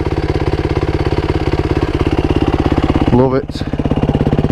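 A Yamaha WR450F dirt bike with a new exhaust baffle idles up close in a steady, deep, bassy thump, briefly blipped before settling back, with a short spoken remark over it.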